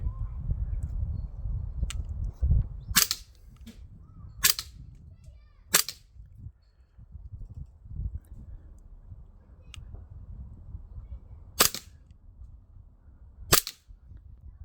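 Umarex Glock 19 Gen5 air pistol firing several single shots, sharp cracks spaced a second or more apart over a low rumbling background.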